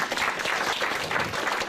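Dense crowd applause fills a hall at a 2017 gathering at the Common Law Court of Wales, loud, close and continuous throughout the short stretch.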